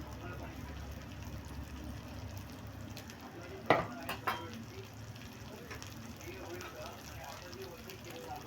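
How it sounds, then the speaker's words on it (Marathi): Bangda mackerel fries with crushed garlic in a pan, a soft continuous sizzle with a few sharp clinks of utensil against the pan, a voice talking over it. "आता आपल्याला हे छानपैकी फ्राय करून घ्यायचे."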